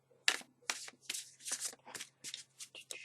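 A Dreamcraft Tarot deck is riffled and shuffled by hand in about eight quick, crisp bursts of card flutter, close and clear with no talking.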